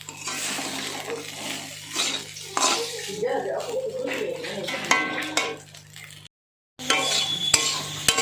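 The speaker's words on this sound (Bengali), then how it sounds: "দিয়ে এবার একটু নাড়াচাড়া করে নিচ্ছি" Baby corn being stirred in a pan gives close scraping and metal clatter from the utensil against the pan, with louder bursts, and a brief dropout to silence near the end.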